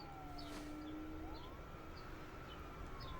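A police car siren in The Day Before survival game trailer, faint distant wailing tones sweeping up and down under a steady background rumble, with no talk.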